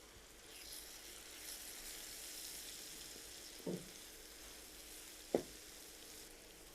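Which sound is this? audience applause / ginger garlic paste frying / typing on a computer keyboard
ginger garlic paste frying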